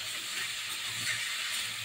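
Drumstick stalks sizzle with prawns in a hot pan, giving a steady close hiss of frying for a couple of seconds.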